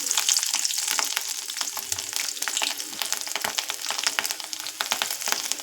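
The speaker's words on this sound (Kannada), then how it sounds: "ಎಣ್ಣೆ ಮೇಲೆ ಬೆಳ್ಳುಳ್ಳಿ ಹಾಕ್ಕೊಳ್ತಾ ಇದ್ದೀನಿ ಬೆಳ್ಳುಳ್ಳಿ ಹಾಕಿದ್ಮೇಲೆ ಒಂದೆರಡು ಒಣಮೆಣ್ಸಿಕಾಯಿ ಒಂದೆರಡು ಹಸಿಮೆಣ್ಸಿಕಾಯಿ ಹಾಕ್ಕೊಳ್ತಾ ಇದ್ದೀನಿ" Garlic with dried and green chillies fries in hot oil for a village-style lentil and vegetable curry, giving a close, steady crackling sizzle with dense popping and spattering, with no voices.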